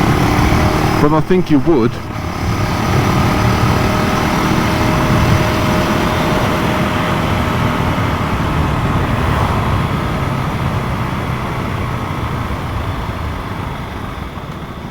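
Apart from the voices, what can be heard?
KTM 390 Duke single-cylinder motorcycle engine while riding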